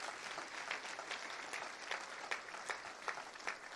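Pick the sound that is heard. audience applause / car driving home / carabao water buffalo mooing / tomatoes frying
audience applause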